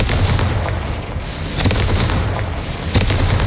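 Confringo blasting spell in the video game Hogwarts Legacy, loud booming explosions over a dense rumbling background, with sharp blasts recurring a few times in quick succession.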